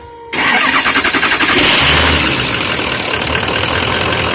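A car engine cranks with rapid rhythmic chugging, catches, and settles into a loud steady idle, close by, after a fuel pump pigtail repair.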